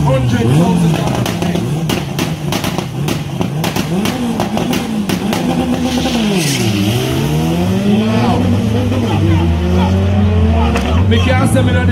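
Honda and a rival car, one white and one red, launching in a drag race: loud engines rev and climb through gears with sweeping pitch changes, a brief tire squeal, close and powerful.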